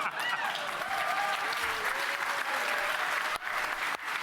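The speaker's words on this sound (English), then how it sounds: "somebody's holding a sign to the audience, being like, clap" Audience applause: a dense, sustained wash of clapping from a large crowd, steady and loud throughout with a couple of brief dips near the end.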